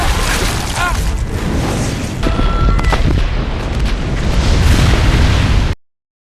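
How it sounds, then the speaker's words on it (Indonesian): A bomb blast in a film's climactic scene: a loud, sustained rumbling explosion with crackling debris and a brief tonal ring partway through, then an abrupt cut to silence. "Cooper harus mengambil detonator dan akhirnya meledakkan bom di saat terakhir"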